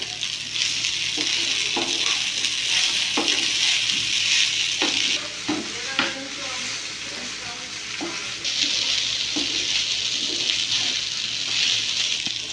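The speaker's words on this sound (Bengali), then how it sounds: "অল্প সস দিয়ে দেবো এর মধ্যে নাড়িয়ে নেব" Cheese pasta in sauce being stirred in a hot pan: a steady sizzling hiss runs throughout, broken by repeated scraping and clinking strokes from the spoon, close and fairly loud, with no voices.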